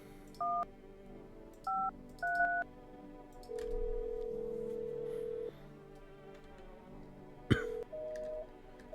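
A phone number is dialed in No I'm Not Human as three short paired keypad tones, followed by a long steady ringing tone, a sharp click as the line connects and a brief final tone.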